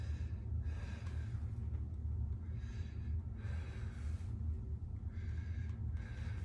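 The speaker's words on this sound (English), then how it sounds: "So take a deep breath." Patient taking slow deep breaths during a lung exam, soft airy inhales and exhales in a quiet room, several breaths in a row, faint and close.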